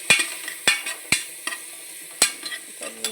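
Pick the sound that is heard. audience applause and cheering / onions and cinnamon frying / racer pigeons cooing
onions and cinnamon frying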